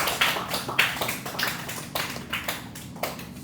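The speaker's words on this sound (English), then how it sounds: "So, give a round of applause." A round of applause for a presenting student group in a university economics class: scattered hand claps in an uneven, fairly close patter for a few seconds, without talk.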